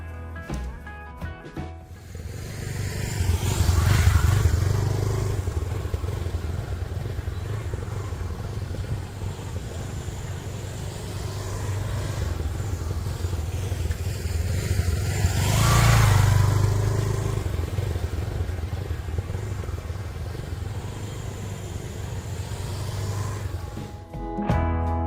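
Motorcycle riding a figure-eight around cones, its engine droning steadily for over twenty seconds and swelling twice as it passes nearer, revving and easing through the turns with no voices heard.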